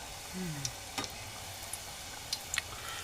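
Corn fritters (maka bhaji) frying in hot oil, with a steady close sizzle and scattered small pops, and a brief faint voice near the start.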